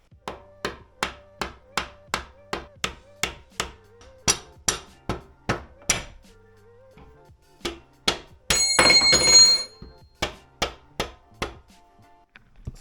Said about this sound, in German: Aber erstmal fangen wir an, das loszuklopfen und dafür habe ich einen Kunststoffhammer.